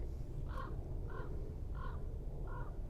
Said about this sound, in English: The crows are ready. They were born ready.